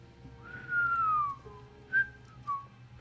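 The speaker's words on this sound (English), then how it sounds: "Someone whistles." Someone whistles a short tune, one long sliding note followed by two brief chirps, clear and fairly close over a low background hum.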